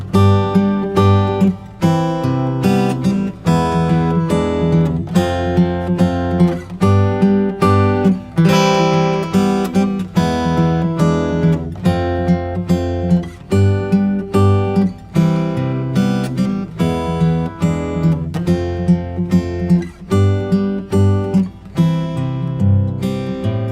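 The chorus of a song played on a piano-like instrument: steady chords with a rhythmic pulse, loud and close, running on without pause and with no voices.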